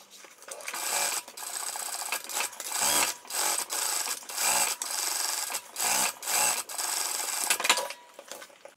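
A sewing machine runs a base stitch around the edge of a cross-body bag, going in repeated short bursts of rapid mechanical whirring with brief pauses between runs, close and steady.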